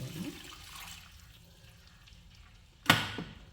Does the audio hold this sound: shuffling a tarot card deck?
no